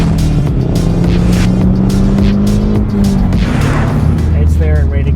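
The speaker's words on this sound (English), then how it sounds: "is a lot of noise from the engine and the exhaust" A second-generation Scion tC's engine and exhaust rise under acceleration, a loud close rasping drone that climbs in pitch through a gear and carries on, with a voice talking over it.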